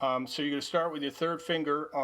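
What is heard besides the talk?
No everyday noises stand out.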